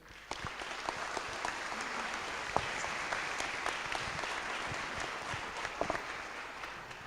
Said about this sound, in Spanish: aplauden muy bien